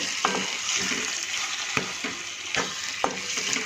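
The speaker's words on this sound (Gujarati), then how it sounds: "મેથીને પણ આપણે થોડી ચલાવી દઈશું મસાલા સાથે." Fenugreek leaves stirred with spices in a pan while cooking a Gujarati green pigeon pea and turmeric curry, with a steady sizzle and a few sharp scrape strokes of the spoon at intervals.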